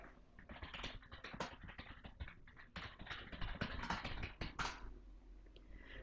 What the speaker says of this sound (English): To add a new item, just click and type.